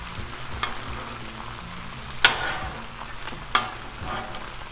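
Eight eggs frying on a Blackstone griddle, a steady close sizzle with a few sharp spatula scrapes and clicks on the flat-top metal.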